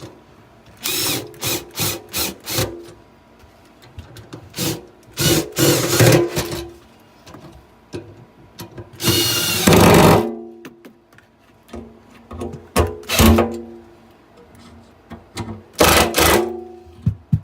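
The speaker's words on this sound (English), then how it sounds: "We're gonna use the drill to make these things go a little bit faster" A power drill driving bolts while installing a garbage disposal, in loud, close bursts: several short whirs, a longer sustained run midway, then more quick pulses.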